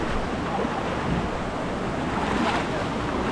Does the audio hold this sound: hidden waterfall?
yes